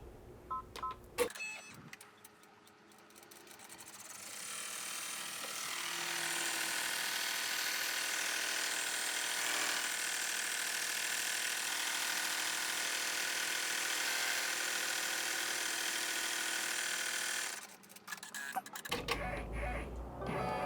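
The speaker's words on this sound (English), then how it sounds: "our last stitch is going to be just the box around the outside with a bean stitch" An embroidery machine stitches a bean stitch box outline on a notebook cover, giving a fast, steady mechanical whirring and rattling that runs for about fifteen seconds at close range and then stops, with brief handling noises before and after.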